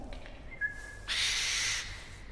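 An owl at a birds of prey display gives a brief call: a faint thin whistle, then a short harsh screechy burst, close by and alone against quiet background.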